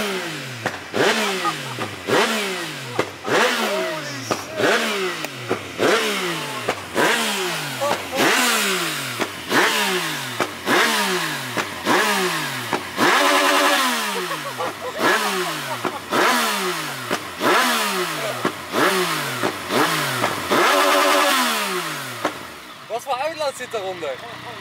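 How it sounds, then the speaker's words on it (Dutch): A motorcycle engine with an aftermarket Akrapovic exhaust is revved hard again and again in a steady rhythm, each roaring blip dropping away with crackles and pops from the exhaust. "Hele vette motor."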